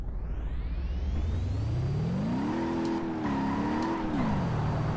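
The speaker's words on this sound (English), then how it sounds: "Okay, we're spinning wheels straight away." A car in the BeamNG driving game, remapped to around 750 brake horsepower, its engine droning and rising in pitch as the revs climb and waver in a sustained wheelspin, loud and continuous with no talking.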